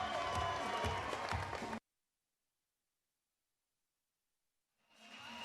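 A fight-night crowd roars and applauds a winner declared by TKO in the final round of a combat sports event in East London. The dense cheering cuts off abruptly partway through, then swells back up near the end.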